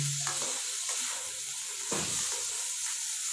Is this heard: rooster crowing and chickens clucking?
no